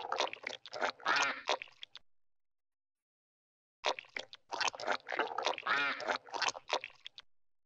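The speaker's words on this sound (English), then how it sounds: "Duck." A duck quacks in two rapid bursts of repeated nasal calls separated by a short silence, heard up close in a toddler animal show.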